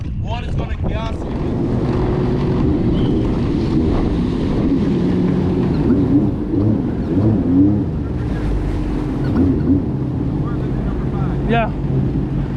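A jet ski engine accelerating on open water during a guided tour off Coco Cay, Royal Caribbean's private island: steady droning motor with wind buffeting the microphone, and people talking over the noise.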